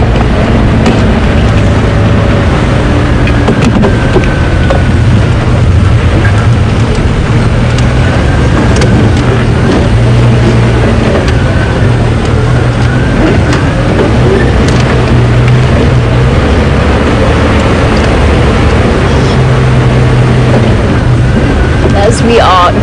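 A safari game drive vehicle rolls along at Djuma Game Reserve under grey clouds, its engine a steady, loud rumble with constant road and wind noise throughout, and a voice talking over it.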